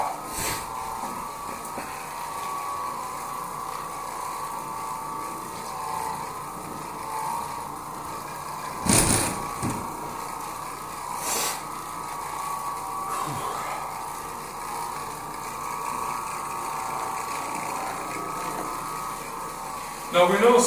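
An Oreck Orbiter floor machine runs steadily for low moisture carpet cleaning, a continuous mid-pitched motor drone with a grinding mechanical hum, broken by a couple of brief louder knocks.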